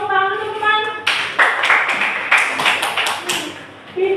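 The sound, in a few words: classmates clapping in a classroom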